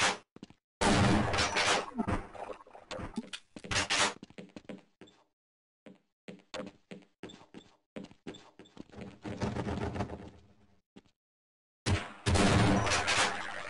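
Rapid bursts of gunfire in the PC shooter Half-Life, loud close shots in clustered volleys separated by short silent gaps, with no talking.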